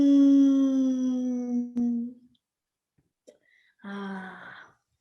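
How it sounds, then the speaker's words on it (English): Whale song played from a relaxation app on a phone: a long, sliding, moaning tone that fades out, a brief pause with faint clicks, then a shorter mournful call. "Whale sounds, that's it."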